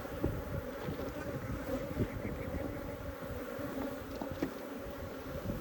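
Africanized honey bees buzz steadily around an open hive during a beekeeping hive change, a dense, continuous droning swarm that fills the air without a break.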